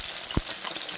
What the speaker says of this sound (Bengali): এবার নুন আর হলুদ দিয়ে একটু শুটকিটাকে ভেজে নেব।